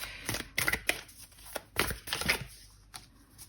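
Close, crisp riffling and flicking of oracle cards being shuffled in quick bursts with short pauses between them, a few louder slaps standing out.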